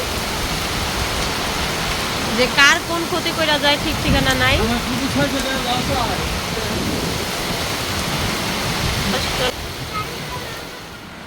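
Steady, heavy rain hisses without letup during a storm, with a voice talking over it for a few seconds before the downpour continues alone.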